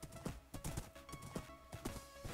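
Horse hooves clip-clopping in the Minecraft video game, a steady, quiet rhythm of repeated hoofbeats with no talking.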